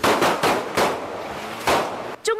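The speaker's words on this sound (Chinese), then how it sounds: "警察当街连轰七枪喝止" Police fire a rapid string of gunshots on a city street at a fleeing suspect's van, several loud sharp bangs in close succession with short gaps, followed by a brief shout.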